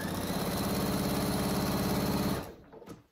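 A sewing machine stitches a seam around a fabric cat carrier cover with a rapid, even mechanical whir that runs loud and steady for a couple of seconds, then cuts off abruptly and leaves a few faint clicks.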